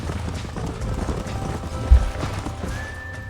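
Horses in the Red Dead Redemption western video game clop along with steady hoofbeats under faint game ambience, one louder thud near the middle and a thin sustained tone at the end.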